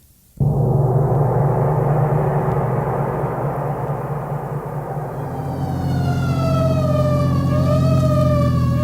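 A wailing siren in a vintage radio drama rises over a steady engine drone, growing closer and louder with a clear pitch sweep toward the end; no voices.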